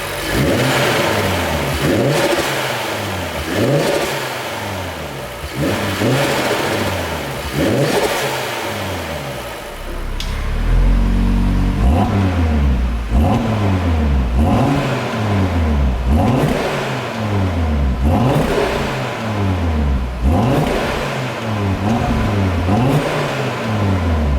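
A 2022 Audi RS3 engine revs repeatedly up and down against soft limiters in rising, falling sweeps, loud and close, with a deeper surge midway through.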